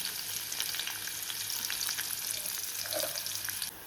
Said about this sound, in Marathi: आता मी कढीपत्ता टाकते त्याच्यानंतर कांदा आणि कांदा मस्त ब्राऊन करून घ्यायचा